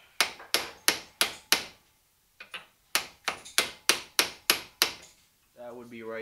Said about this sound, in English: I'm gonna hammer it with a 24.